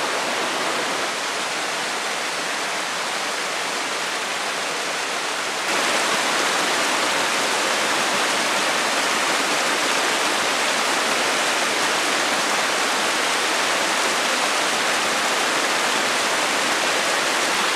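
A stream flows beside a bushcraft camp as a loud, steady rushing wash of water that continues without a break and gets slightly louder partway through.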